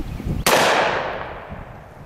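A Chiappa X-Caliber survival shotgun fires one loud, close blast into a rubber dummy, its sharp report decaying into a long, broad echoing rumble that fades over two seconds.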